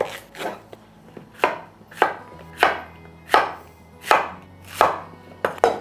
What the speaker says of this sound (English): I got a couple of zucchini, courgettes, slice them up